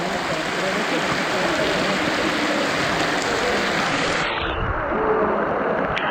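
A waterfall at Chichen Itza gives off a steady, loud, broadband rush of falling water that fills the whole stretch, with a brief shift in tone near the end.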